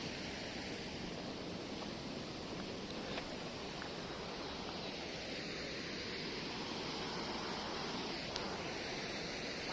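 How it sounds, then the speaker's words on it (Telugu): Water flows steadily at a peaceful outdoor spot near Woddera Colony in Nizamabad, a broad unbroken rushing wash with no voices. "బాగా పోతున్నాయి వాటర్."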